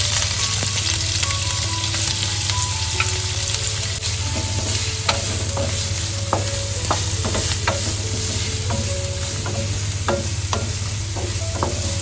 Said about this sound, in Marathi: कांदा घालून घेतोय